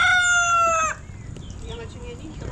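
Two roosters that keep fighting, one crowing loudly and close with a long, strained call that cuts off abruptly, followed by quieter background clucks and farmyard noise.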